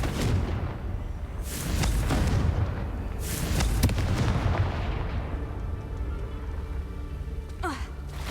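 A Confringo fire spell explodes in Hogwarts Legacy, giving several muffled booming blasts with rumbling tails over a steady low game ambience, moderately loud and slightly distant.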